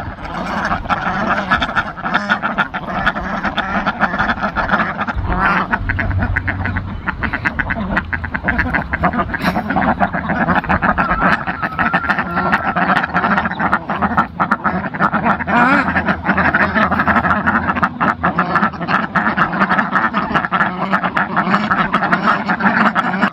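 A dense chorus of ducks at a pond quacks continuously and loudly, many birds calling at once close by with no pause.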